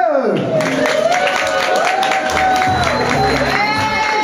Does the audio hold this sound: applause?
yes